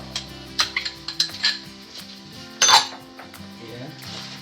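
Tomatoes being stirred in a cooking pot during a cooking class in Shimla, with a burst of metallic clinks and scrapes of a utensil against the pot, a louder clatter midway, and a voice speaking nearby.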